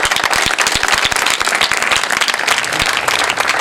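Loud, dense applause from a congregation at a church sermon, sharp individual claps standing out in a steady roar that runs throughout.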